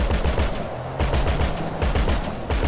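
Gunfire in Grand Theft Auto V: rapid automatic bursts, loud and close, rattling continuously with dense repeated shots.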